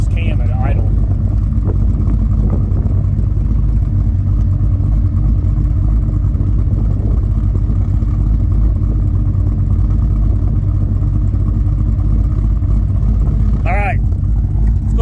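A 2008 Pontiac G8 engine idling, a loud, deep, steady rumble that carries on without pause throughout, close and unbroken, with a brief faint squeak at the start and end.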